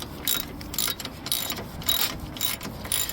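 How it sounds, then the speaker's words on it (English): Rapid ratcheting clicks in short bursts as a 10mm ratchet tightens hood latch bolts on a 2008 Toyota Corolla SE, close and moderately quiet, with brief pauses between strokes. "we're just using our 10mm ratchet to tighten"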